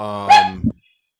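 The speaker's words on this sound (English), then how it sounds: "sure, it's your dog" A dog lets out one short bark, near and fairly loud, ending in a brief low growl before sudden silence.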